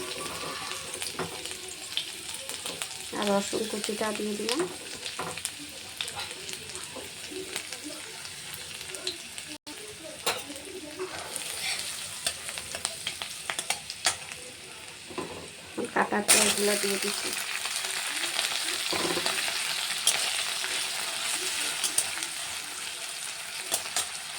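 Chopped ginger and chillies sizzle steadily in hot oil left from frying chicken pieces for chilli chicken, with stirring scrapes and a brief tap-water run partway through; the sizzle grows louder and brighter near the end.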